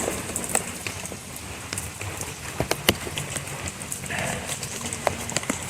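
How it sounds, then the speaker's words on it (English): Tropical storm rain falling steadily, a dense close patter with sharp individual drops and splashes landing on nearby surfaces, without talking. "Still raining."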